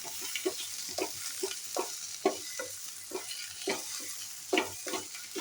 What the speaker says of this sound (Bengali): আজকে এদিকে এখন চলছে দেখো লাউয়ের খোলা ভাজা, কালো জিরে আর শুকনো লঙ্কা পোড়া দিয়ে